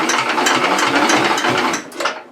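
A concrete vibrator's engine, mounted snugly on a finished bench, struggles to start with a loud, rapid, rhythmic chugging that runs on and then trails off near the end.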